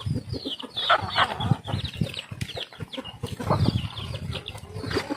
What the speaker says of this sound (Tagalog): Karamihan dito tandang.